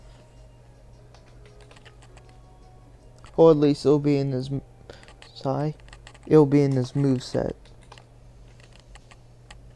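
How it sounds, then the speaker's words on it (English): Computer keyboard keys click in quick, scattered bursts of typing, faint and close, running through the clip while someone talks over them in the middle. "I'm sorry about the keyboard clicking."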